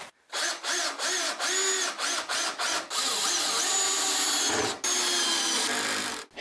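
Cordless drill-driver fitted with a socket running lag screws into a solid wooden workbench at low speed, repeated short loud whirring bursts followed by longer sustained driving runs, close by.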